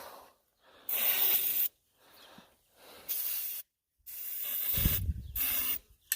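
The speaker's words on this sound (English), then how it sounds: "Spray that down a little bit." Several bursts of hissing liquid spray from a Versatile 2200 farm implement, each lasting about a second, separated by short silences, with a low rumble under one burst near the end.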